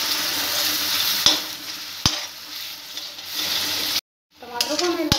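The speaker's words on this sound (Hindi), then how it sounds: "टमाटर को हमें लगातार ऐसे चलाते रहना है, आधा मिनट तक इसको ऐसे ही भूनना है मसाले में टमाटर को" Tomato paste stirred into frying turmeric and red chilli powder for shahi paneer: a steady, close sizzle with sharp spoon knocks against the pan, a brief silent gap, then hissing resumes with clattering stirs.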